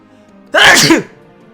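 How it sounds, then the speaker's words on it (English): A single loud, sharp sneeze bursts out close by, brief and forceful, then fades into quiet. "Ugh, and also sneeze in the process."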